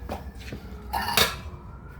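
A few light metallic clinks and a scrape, close by, as a thin aluminium pot lid is picked up and handled.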